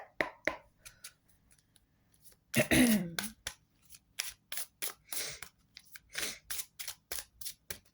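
Tarot cards are shuffled and handled up close in a string of crisp snaps, flicks and rustles, irregular and fairly quiet, with one louder riffle near the start.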